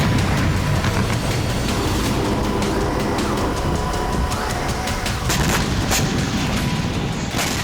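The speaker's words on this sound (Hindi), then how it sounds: "सुबह सुबह यूक्रेनी फोर्स ने रूस के 4 एयरबेस पर कुछ इस तरह से विस्फोट किए।" Blasts from Ukrainian drone strikes on Russian airbases at dawn, a steady roar of fire and rumble with several sharp bangs and cracks breaking through, loud and continuous without voices.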